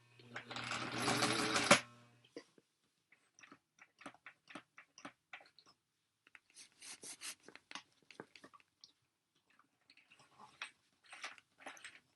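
A vintage sewing machine stitches the flap of a tote bag in one loud continuous whir lasting under two seconds. Scattered faint clicks and small handling sounds follow in the quiet afterwards.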